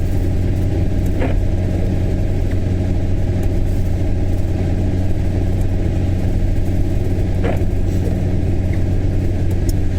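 A bus idles close behind a car on a trip to Edinburgh. Its deep, steady engine rumble dominates throughout, and a couple of brief faint clicks break through near the start and end.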